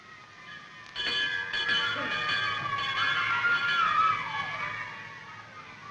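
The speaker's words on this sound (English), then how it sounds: "That's the dinner bell." A dinner bell rings out in an old film scene, a rapid run of metallic clangs with ringing overtones, loud and fairly close, with no voices over it.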